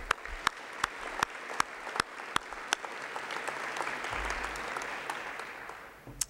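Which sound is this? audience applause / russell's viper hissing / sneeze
audience applause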